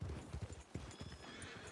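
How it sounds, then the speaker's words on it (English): Horse hooves clip-clop at a quick, uneven pace in the Red Dead video game. Several horses seem to be moving, and the sound stays faint and distant. "there's a lot of horses"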